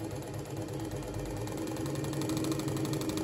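A scroll saw runs at full speed cutting a rattan basketry base, giving a steady, even mechanical buzzing rattle with a fine rapid pulse, close and unbroken for a few seconds.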